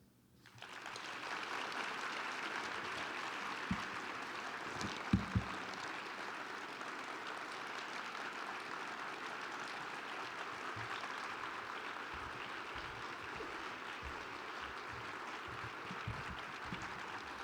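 A large audience at an awards lunch applauds in a steady wash of clapping that starts abruptly and holds for many seconds, with occasional louder individual claps.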